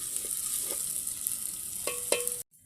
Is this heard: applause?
no